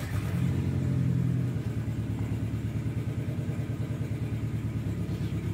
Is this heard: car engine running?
yes